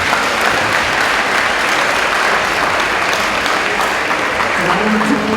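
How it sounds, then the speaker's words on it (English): An audience at a high school athletics letter-of-intent signing day applauds, with sustained, even clapping close and loud throughout. "Let's give these young men another round of applause."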